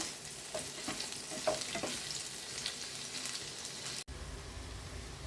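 Papaya pieces frying in a pan, a soft steady sizzle with occasional stirring scrapes, fairly quiet and close, with no talking.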